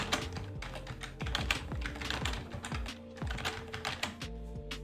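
Rapid typing on a computer keyboard while coding a game engine: dense, irregular clicking keystrokes, close and steady over a low background hum, with no talking.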